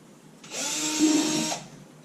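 A power drill whirs up for about a second drilling a hole in a box, pitch rising slightly under load, then winds down; close and fairly loud against a quiet room.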